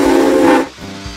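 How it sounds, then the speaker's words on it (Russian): A steam whistle on a train blows one loud, close, steady tone with a hissing edge, warning of an approaching crossing, then cuts off and leaves a short fading hiss. "Еще у меня есть свисток, чтобы предупреждать людей о приближении к переезду"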